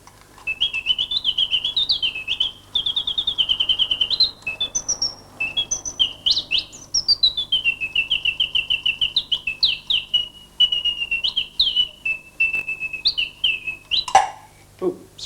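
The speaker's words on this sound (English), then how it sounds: "This is the song of the siskin bird." A Swiss mechanical singing bird box plays a siskin song: rapid bright whistled chirps and trills in quick bursts, clear and close, with a faint mechanical hum beneath and a sharp click near the end.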